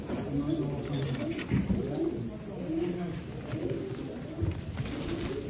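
Fancy pigeons, including jumbo and double-crested breeds, coo steadily from a group close by at a market stall, with low murmuring voices mixed in throughout.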